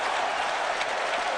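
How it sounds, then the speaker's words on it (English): Stadium fans cheer and applaud as the Texas Rangers hit a home run in a 30-3 MLB game, a broad unbroken roar of crowd noise, brief and even in loudness. "Even the fans are cheering now."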